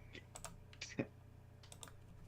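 Keys tapped on a computer keyboard in a few quick, faint clusters of clicks over a steady low hum, with soft voices in the background.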